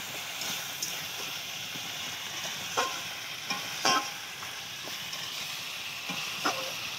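Masala spice paste for a Bengali rupchanda fish curry sizzles in oil as a spoon stirs and scrapes the pan, with soft steady frying and occasional sharper knocks of the utensil against the vessel.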